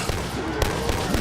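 Rapid bursts of gunfire from a sniper rifle firing double bullets in Call of Duty Black Ops 3 Zombies, Origins map, sharp repeated cracks over a dense, busy game mix.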